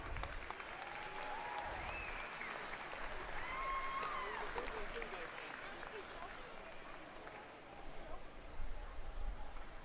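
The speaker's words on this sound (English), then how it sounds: "Round of applause, everybody." Outdoor crowd applause at a USA BMX national race fills the whole stretch as a broad, steady wash of clapping, with some voices mixed in and a brief swell near the end.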